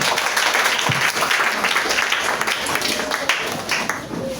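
A church congregation claps and cheers in worship, dense sustained applause mixed with raised voices throughout.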